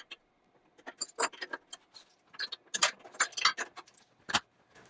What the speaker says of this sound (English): I'm going to break these loose with my ratchet.